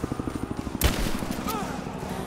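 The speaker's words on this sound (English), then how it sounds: "We're under fire at the edge of the village." Automatic gunfire in Rise of the Tomb Raider at the edge of a village: a quick rhythmic volley, then a heavy blast and scattered shots, close, with a voice talking.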